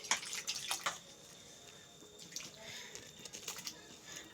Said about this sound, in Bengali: তো আমি এই পাত্রে এইভাবে জল দিয়ে দিচ্ছি।